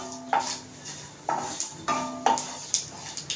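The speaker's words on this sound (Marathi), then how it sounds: "ती पण आता चांगली आपल्याला हलवून घ्यायची आणि त्याच्यात परतून घ्यायची" Chili flakes and sesame seeds being stirred and sautéed in a pan for a quick breakfast dish, with a spoon scraping and clinking against the metal in a steady rhythm of about seven close strokes.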